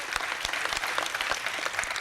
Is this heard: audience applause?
yes